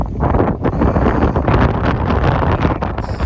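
Strong wind on a farm buffets the microphone with loud, continuous, rumbling gusts that surge and ease without a break.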